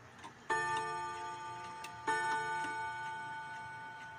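A Seikosha 8-day pendulum wall clock chimes twice, two bright ringing strikes about one and a half seconds apart, each decaying slowly, with soft ticking in the quiet room and no voices.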